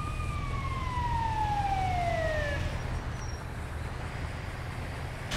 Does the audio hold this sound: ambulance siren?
yes